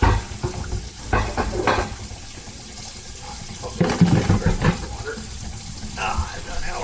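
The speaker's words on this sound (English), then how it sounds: "Water." Tap water runs into a sink during plumbing work on a sink drain and P-trap, a steady close splashing rush with clattering bursts from handling under the flow.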